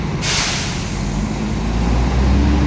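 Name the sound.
tronton heavy truck passing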